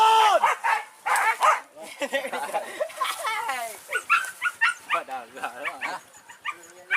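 Hunting dogs chasing a wild boar bark and yip in quick bursts, mixed with excited people talking nearby.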